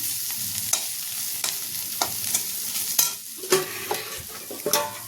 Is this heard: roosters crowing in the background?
no